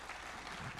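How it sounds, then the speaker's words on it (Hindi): Audience applause at a stage event rises as one brief, dense burst of clapping, fairly loud and continuous for under a second. "जोरदार तालियों से अब एक बार कर दो स्वागत।"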